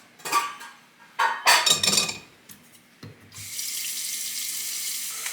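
Kitchen tap filling a pot with water to boil linguine, preceded by a few clattering knocks and scrapes of cookware, then a steady rushing stream of running water continuing to the end.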